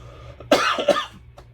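Two close coughs, loud and near, followed by a faint third catch of breath, with a low steady hum underneath.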